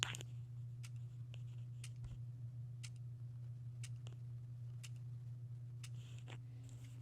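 An electric hour meter wired to an electric motor ticks with sharp, evenly spaced clicks about once a second over a steady low hum.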